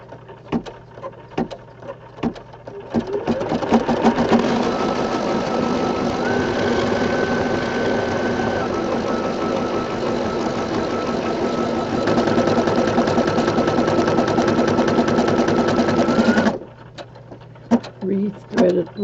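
An embroidery machine stitches green thread on a St. Patrick's Day rainbow design, a few sharp mechanical taps at first, then a fast, continuous rattling hum of needle strokes for about thirteen seconds before stopping and going back to scattered clicks.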